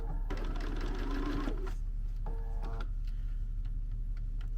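A sewing machine stitches a doll-sized oven mitt in two short bursts of rapid mechanical ticking, the first about a second long and a briefer second run after a pause, close and fairly quiet over a low room hum.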